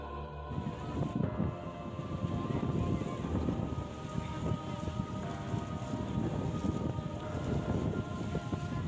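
Strong wind at sea off Parepare, where boats were sunk: a continuous loud roar of gusting wind and turbulent water, buffeting the microphone with no voices.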